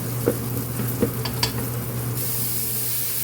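Meat, garlic and onion sizzle in a hot pan with a steady close hiss, broken by a few sharp clinks and scrapes of stirring.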